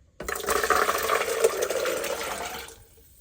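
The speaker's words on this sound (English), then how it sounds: "I'm going to pour all of this straight into the blender" Soaked macadamia nuts and their soaking water poured into a blender, a steady close splashing pour lasting a few seconds before tapering off and stopping.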